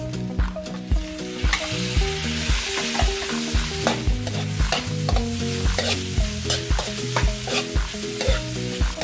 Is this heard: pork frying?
yes